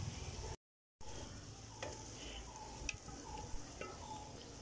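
Yogurt goes into a hot pan for a Kashmiri dum aloo gravy over low heat and is stirred, giving a soft steady sizzle with faint scraping taps of the spoon against the pan after a brief silent break.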